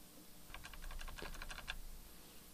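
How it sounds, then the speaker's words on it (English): A quick run of soft clicks from a computer keyboard's arrow keys being tapped to move a cursor through HTML code, faint and close over a low hum. "I'm going to use the arrow keys on my keyboard"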